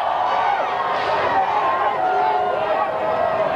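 A rugby league crowd at a Keighley Cougars versus Leigh match roars in a constant loud wash of cheering and noise, with a commentator speaking over it.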